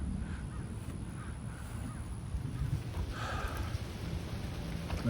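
Rain falling outdoors, a steady soft patter with a low rumbling wash underneath, broken briefly by a distant crow cawing.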